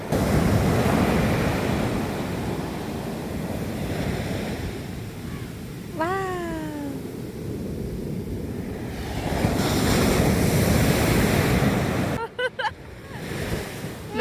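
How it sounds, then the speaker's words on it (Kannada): Rough monsoon sea pounds Mudaga beach near Karwar, a continuous roar of surf and wind buffeting the microphone, with a brief whistle-like sweep midway and louder crashing toward the end. "ಸಮುದ್ರ ಎಲ್ಲ ರಫ್ ಆಗಿದೆ"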